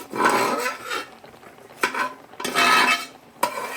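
Tapioca (kappa) is mashed and stirred into a thick masala in a pot, with bursts of wet scraping and clacking of a utensil against the metal, loud and close, separated by short pauses.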